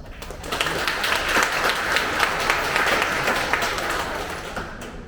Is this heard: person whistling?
no